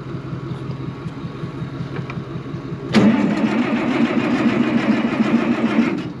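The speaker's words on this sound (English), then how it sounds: "I'm gonna start the tractor here before we start transferring. Get it warmed up." A farm tractor's diesel engine cold-starts with a sudden loud catch after a stretch of low outdoor background, then settles into a steady, rough, close idle as it warms up.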